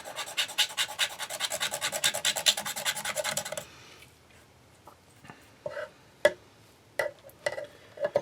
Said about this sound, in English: But I think I can scrape it off.